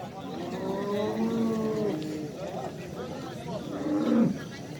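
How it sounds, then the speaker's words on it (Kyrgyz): Dairy cows tethered in a row at the Uchkun livestock market in Osh, two drawn-out moos close by, a long one first and a shorter one near the end, with market chatter underneath. "Бул жерде базарда атайын портерге байлап саан уйларды тизип коюптур."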